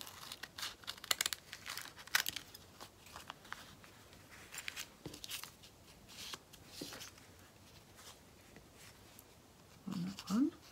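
Scissors snip through paper for a junk journal, producing several close, crisp cutting and crinkling sounds scattered across the stretch, with light handling noise between cuts and a brief voice near the end.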